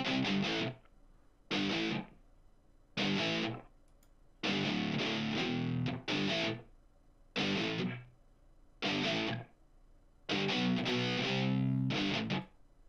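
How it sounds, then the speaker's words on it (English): A soloed distorted electric guitar plays chopped chords in separate bursts with short silent gaps, a subtle room reverb adding a faint tail after each stop. "just a very subtle amount of room verb on this guitar"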